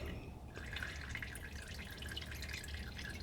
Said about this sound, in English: Let's go ahead and let that drain